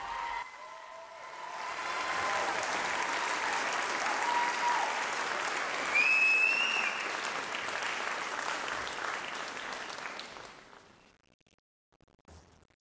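An audience at St. John's Smith Square applauds a band after a New Year's Day Parade concert, a sustained, even round of clapping that builds, holds for several seconds, then fades away to near silence.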